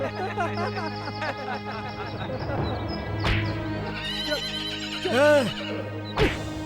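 A horse gives a loud, rising-and-falling whinny late in the scene, heard over a soundtrack of background music and ambient noise, with a shorter burst of sound following just after.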